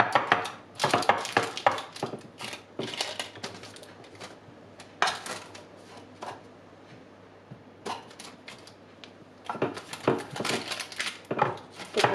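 Cheesecake dough pressed and spread by hand in a baking tin, giving repeated soft pats, thumps and scraping knocks in irregular bursts, close by with short quieter gaps.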